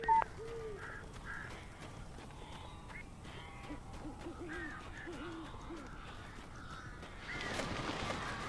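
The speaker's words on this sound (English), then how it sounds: "These birds are weird." Crows in the Alan Wake video game give a scattered series of faint, hoarse calls over a quiet, murky ambience, which swells into a louder wash near the end.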